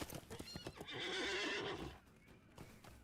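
Horse steed in the LOTRO video game, with hoofbeats and a long neigh swelling loud in the middle, brief clip-clop before and after.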